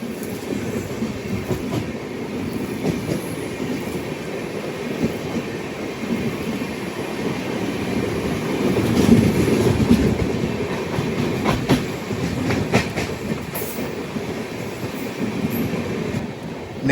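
A train rolls through an Indian railway station, a steady rumbling clatter of wheels on track with occasional squeals and clanks, swelling slightly midway and continuing throughout.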